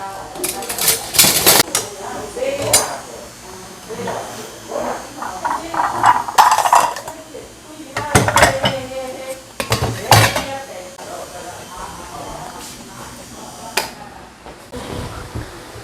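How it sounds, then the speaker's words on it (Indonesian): Bowls, chopsticks and spoons clatter and clink repeatedly while being washed, with close, busy knocks of dishes and some running-water texture throughout. "kelar makan kita cuci ini ya. Cuci mangkok"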